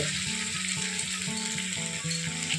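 Ground cashew, melon seed and poppy paste frying in oil with ginger in a pan for mixed vegetable curry, a steady loud sizzle heard beneath a tuneful background melody.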